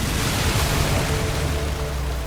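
A water tank bursts and water gushes out in a loud, continuous rushing roar that stays steady and close throughout.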